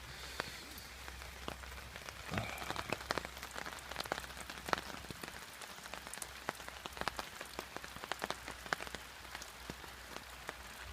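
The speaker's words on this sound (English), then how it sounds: "Started raining again, as you can hear." Steady rain patters on a hammock shelter while camping in the wild, with scattered louder drops ticking through a soft continuous hiss; no voices.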